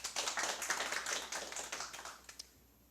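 Audience applause at an award ceremony for a construction site safety seminar and contest, a dense patter of many hands clapping steadily for about two seconds before quickly thinning out to a few last claps and silence.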